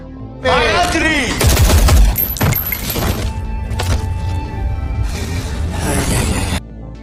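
Loud bursts of gunfire in a dramatic film action scene as a terrorist leader opens fire, sharp cracks and a rapid volley mixed with shattering debris and shouting voices, filling the whole stretch.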